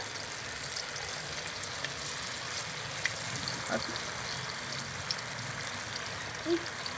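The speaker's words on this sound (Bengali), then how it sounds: "এইভাবে আমি বাকি পটেটোগুলো ভেজে নেব" Crispy rose-shaped potato snacks frying in a pan give a steady, moderately loud sizzle with fine crackling across the whole stretch, with no talk over it.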